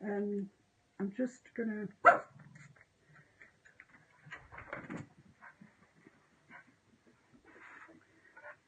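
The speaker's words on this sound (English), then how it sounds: "Sorry about the dog barking." A dog barks several times in short bursts near the start, loud and close, with a person talking over and between the barks in an indoor room.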